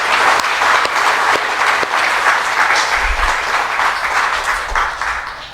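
Audience applause for an honored guest at a ceremony in the Philippines, dense steady clapping from a large crowd filling the whole stretch at a loud, even level with no talk over it.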